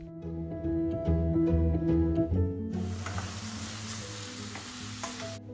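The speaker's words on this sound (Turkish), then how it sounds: "Karıştırarak iyice kavuruyoruz." Hot olive oil sizzles loudly as leeks and carrots are stirred in a pan, with a tonal hum at first, then a steady bright frying hiss.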